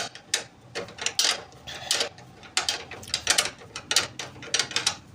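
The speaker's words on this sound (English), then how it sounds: "So take spanner and tight it." Ratcheting spanner tightening a stabilizer link nut on a BMW E36, rapid clicking pawl strokes in short close bursts, loud and alone without speech.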